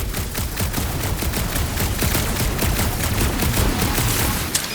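Sustained rapid gunfire in Marvel's Guardians of the Galaxy video game, a steady stream of close, dense shots rattling on without pause at a moderate level.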